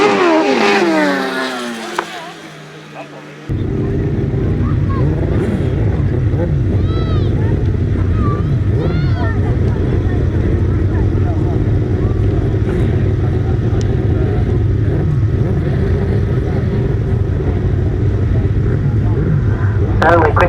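Grasstrack sidecar motorcycles race on a dirt and grass circuit at a British Masters qualifier. A quiet opening gives way to a loud, sustained engine roar with shifting revs as the outfits pass close by.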